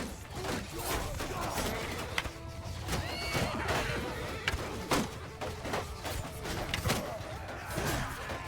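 A horse in Bannerlord whinnies after being struck by a hit, with neighing squeals rising over clopping hooves, thuds and battle clatter, fairly close and in repeated bursts.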